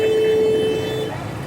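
A sustained car horn blares over the drone of heavy road traffic after a signal, loud and close, then cuts off as the traffic rumble continues.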